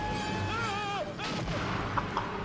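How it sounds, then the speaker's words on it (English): Explosion from the 1981 film Mad Max 2: The Road Warrior, a loud booming burst that swells around the one-second mark and rolls on as a dense rumble, with sharper cracks near the end. A tonal score plays beneath it. "Oh man, what an explosion."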